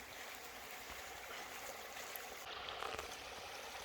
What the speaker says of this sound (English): our campsite is right next to a creek. It's a beautiful little creek. It's flowing real nice.